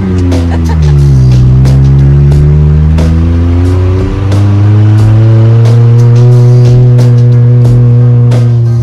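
A loud car built for a Gambler 500 run on a test drive, its engine droning and revving up and down steadily at close range, with faint clicks and rattles over the top.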